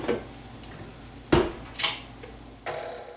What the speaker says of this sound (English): So let's mix those 3 things first together